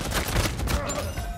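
Gunfire in the Uncharted 4 multiplayer video game, a dense fusillade of shots in quick succession, loud and close, blended with a mix of game effects.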